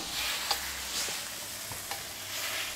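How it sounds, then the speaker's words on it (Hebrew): Pasta is stirred in a pan as water and olive oil emulsify, giving a soft continuous sizzle with faint scraping stirs and a few light clinks, close and quiet. "אתה שומע, זה צליל של אמולציה."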